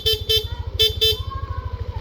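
The stock horn of a Yamaha NMAX motorcycle honks in short bursts, two quick pairs and then a longer blast, loud and close over the rapid putter of the idling engine.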